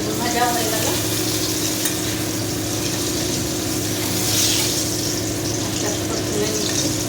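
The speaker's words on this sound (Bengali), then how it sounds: "বেগুন ভাজা হয়ে গেল" Sliced eggplant fries in hot oil in a pan, a loud, steady, close sizzle with bubbling crackle that runs without a break.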